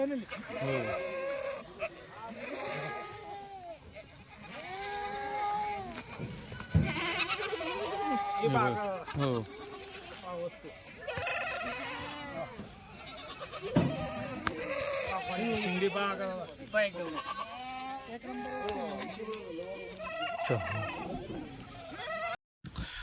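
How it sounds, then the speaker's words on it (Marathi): Kathiawadi dairy goats tied up at a farm bleat over and over, several animals calling in overlapping, wavering cries while someone talks among them and a fowl is faintly heard. "बघा आता तुम्हाला दुधाच्या शेळ्या बांधून दाखवलेल्या आहेत"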